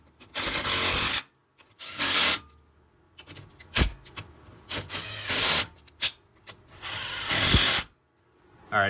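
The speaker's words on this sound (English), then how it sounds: "I just torqued the wheel down to 140 foot-pounds of torque" A wrench working wheel lug nuts on a 2024 C8 Corvette, several loud bursts of ratcheting and whirring separated by short pauses and sharp clicks, close by.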